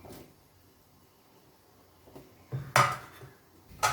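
A metal lid clanks onto a cooking pot simmering hilsa fish curry with brinjal, two sharp close clinks after a faint rattle over near silence.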